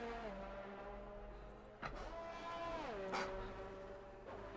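An F1 car from the game F1 2019 races around Monaco, its high-pitched engine whine holding steady, then dropping and climbing again through gear changes, with brief sharp shifts and a commentator talking over it.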